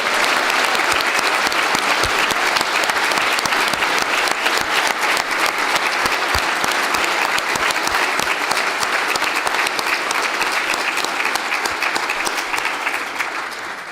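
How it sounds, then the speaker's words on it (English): A large audience at a 2013 inspirational breakfast applauds the United States Marine Corps, a loud, steady wash of clapping that holds for about fourteen seconds before tapering slightly at the end. "Let's give these guys some applause, our United States Marine Corps."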